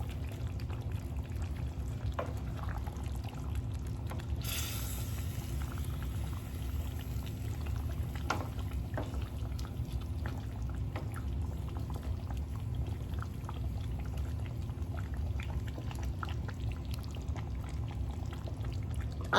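A cup of water is poured into a pot of Caribbean-style stewed oxtails, a steady low liquid rush with a brighter splash near the start, followed by faint simmering pops and ticks, no voices.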